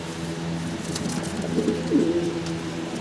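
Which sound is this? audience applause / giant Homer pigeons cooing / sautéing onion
giant Homer pigeons cooing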